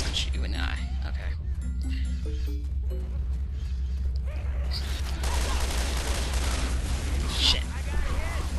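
Video game gunfire in a zombie shooter, a dense, continuous burst of rapid shots and mechanical clatter lasting several seconds, fairly loud, with a player's voice talking over parts of it.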